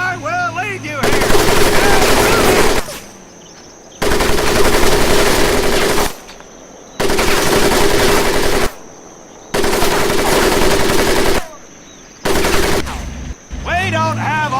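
Sustained machine-gun bursts rattle loudly over an obstacle course in Medal of Honor Pacific Assault, coming in four long volleys separated by short pauses, with a shouting voice in the gaps.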